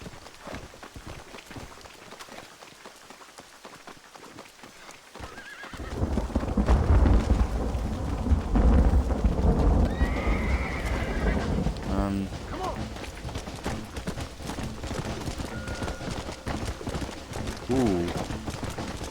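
Horse in the Red Dead Redemption game: hooves clip-clopping on the ground and repeated whinnying neighs, with a player talking over the game sound.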